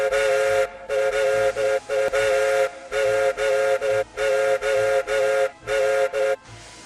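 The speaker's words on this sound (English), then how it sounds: "He whistled out using Morse code." A steam locomotive whistle sounds loud and near in a rapid series of short and long blasts tapping out Morse code, the tones broken by brief gaps.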